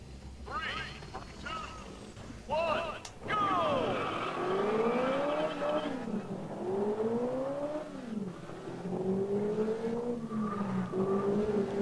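Racing-game cars in Test Drive Unlimited set in Hong Kong, engines revving and shifting in rising and falling sweeps with occasional tire squeal, loud and continuous, a voice talking over them.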